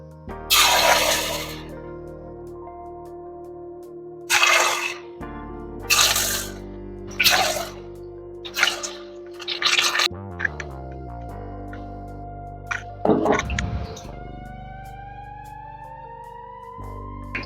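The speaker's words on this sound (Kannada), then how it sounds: "ಈಗ ಗೋಬಿ ಎಣ್ಣೆಗೆ ಬಿಡ್ತೀನಿ." Cauliflower pieces dropped one by one into hot homemade coconut and peanut oil in a pan, with several bursts of loud crackling sizzle at separate moments, close up and without speech.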